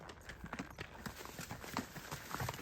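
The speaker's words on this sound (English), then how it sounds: "The horse wants to go." Hooves of a horse clip-clop steadily over ground on a mountain trail ride in Salt Horse Canyon, Arizona, a quick uneven rhythm of close, moderately loud hoof strikes with soft outdoor background.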